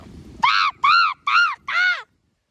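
Four loud, harsh crow caws in a steady sequence, each about a third of a second long with short gaps, close by and clear over a faint low background hum.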